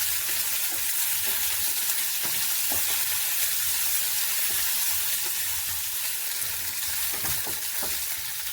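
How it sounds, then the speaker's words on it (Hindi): Chopped onion fries in desi ghee with mustard seeds and cumin, a dense continuous sizzle close up, dotted with small pops and crackles while being stirred. "तो इस प्याज को हम लाइट ब्राउन होने तक इसे फ्राई कर लेंगे।"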